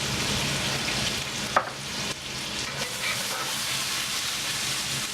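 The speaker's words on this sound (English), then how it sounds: "Saute this up." Shallot, garlic and peperoncino sweating in a hot pan, a steady close sizzle with a few stirring clicks and scrapes, no talk.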